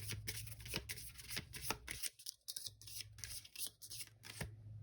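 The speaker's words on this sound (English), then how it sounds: "sometimes I can't shuffle on camera because I'm a bit of a perfectionist when it comes to shuffling" Oracle cards being shuffled by hand in repeated crisp riffling bursts, close and fairly loud, with a short pause midway before the shuffling resumes.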